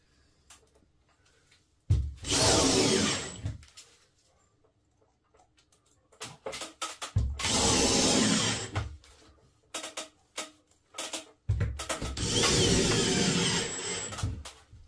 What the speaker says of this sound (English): So when you're putting these screws in, you want them just countersunk.